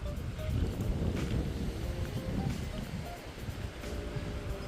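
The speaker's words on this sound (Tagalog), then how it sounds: "malakas yung hangin. Parang may bagyo." Steady strong wind roars close by, buffeting the microphone with low rumbling gusts that swell and ease slightly.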